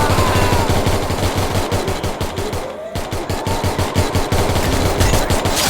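Rapid automatic gunfire in a video game, loud bursts of closely spaced shots running nearly continuously, with a brief pause midway before firing resumes.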